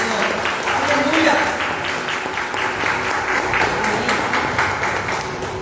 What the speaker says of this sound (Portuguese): Dá salva em palmas ao Senhor